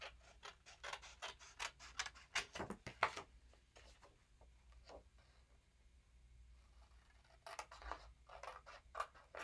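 Scissors snipping through craft paper with bursts of quick sharp cuts, a pause with faint scratching, then another flurry of close, crisp snips, no voices.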